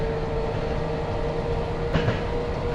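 Steady rumble and rolling hum of a train on the lower track in a railway driving game, a continuous mechanical drone with a faint clatter near the end, no voices.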